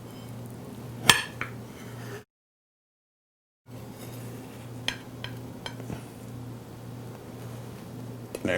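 A hot knife cuts a small 7-inch pumpkin cheesecake on a plate, giving faint scraping and a few soft metallic clinks of blade against the plate, with a short silent gap in the middle.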